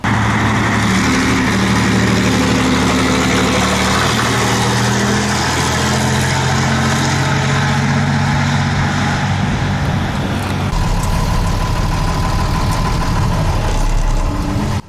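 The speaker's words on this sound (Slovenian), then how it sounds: "Poslušajte ta močan zvok motorja z vsemi alihvotnimi toni." A FIAT 619 N1 truck engine runs loud and steady throughout, a deep rumble with droning overtones that roughens and shifts in pitch near the end.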